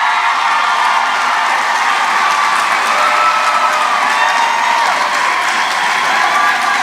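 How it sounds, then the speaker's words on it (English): A graduation ceremony crowd of graduates and families breaks into loud applause with cheering and whoops, a dense unbroken roar of clapping and shouting voices that stays strong throughout. "Give them a round of applause."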